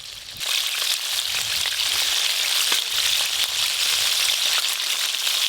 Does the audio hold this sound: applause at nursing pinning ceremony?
no